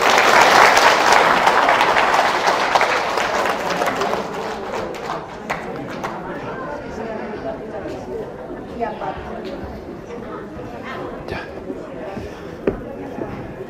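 An audience applauds after a special lecture on qi and health, loud and full at first, then thinning into scattered claps and murmuring chatter.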